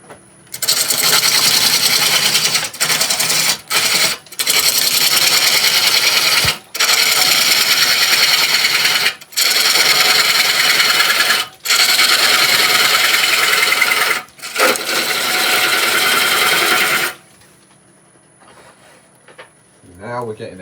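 A gouge on a wood lathe cuts a cherry root ball hollow form, giving loud, close, rasping scrapes in long continuous passes broken by short pauses, then the cutting stops near the end.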